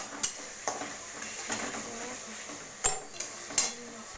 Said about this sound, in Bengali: এটা নেড়ে নিচ্ছি, আর আমি নেড়ে নেবো।